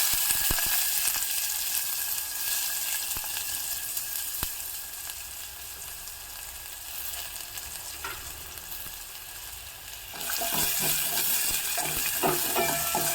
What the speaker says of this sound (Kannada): ಈಗ ನಾನು ಒಂದು ಸಣ್ಣ ಸೈಜಿನ ಈರುಳ್ಳಿಯನ್ನು ಹೆಚ್ಚಿರೋದನ್ನು ಹಾಕ್ತಾಯಿದ್ದೀನಿ